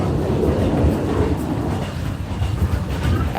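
A moving passenger train on the Nha Trang to Quy Nhon line, heard from inside a carriage: a loud, continuous rumble of wheels on rails with faint clicking, no voices.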